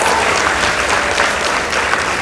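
Loud, unbroken audience clapping fills a hall during a Kiambu High School versus Kabare Girls High School debate, dense and even from start to finish.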